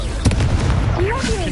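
A short booming blast from the Confringo fire spell in Hogwarts Legacy, heavy and low, erupts amid busy game noise while a voice is briefly heard.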